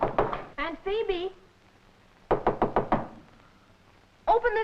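Heavy pounding on a door comes in two hard bursts of several quick, loud knocks each, with a raised voice calling out between and after them.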